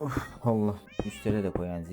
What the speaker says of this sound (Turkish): Ya bu kedi ne bağırıyor ya.